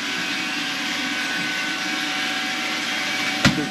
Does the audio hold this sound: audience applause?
no